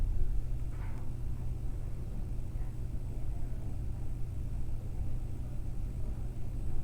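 An In Win Polaris 120mm PC fan spins at maximum RPM close to the mic, giving a quiet, constant airy hum and low whir with no changes in pace.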